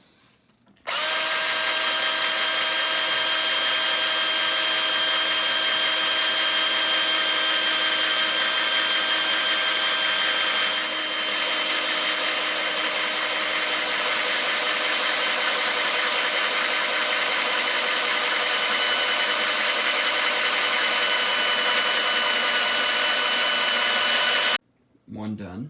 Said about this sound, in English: Then you go straight up and you drill into the other piece.